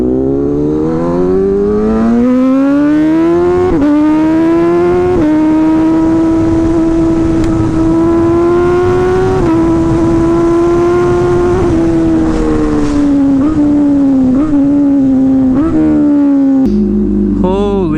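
A hyper naked motorcycle screams at high speed, its engine note climbing steadily through gears with brief dips at each shift, loud and close with constant wind rush.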